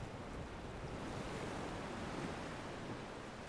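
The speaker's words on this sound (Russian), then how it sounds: "Воды здесь кипят, ревут и крутят." Strong current roaring through a narrow, shallow sea strait, a steady dense rush of churning water filling the whole clip without pause, loud and close, with no voices.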